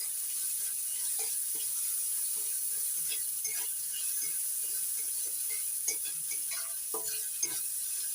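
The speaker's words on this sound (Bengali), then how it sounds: "এবার দিয়ে দিচ্ছি পেঁয়াজ কুচি, পেঁয়াজ হালকা করে ভেজে নেব।" Chopped onion fries in a pan, a steady soft sizzle and hiss carrying throughout, with scattered clicks and scrapes from stirring, close and fairly quiet with no talk.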